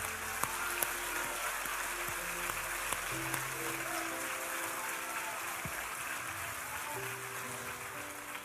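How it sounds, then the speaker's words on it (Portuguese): In a church service, the congregation applauds with a long, steady, rain-like patter of many hands. Sustained musical tones hum softly beneath the clapping throughout. "Vamos aplaudir Jesus."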